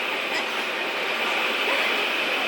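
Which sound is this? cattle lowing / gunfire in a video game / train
train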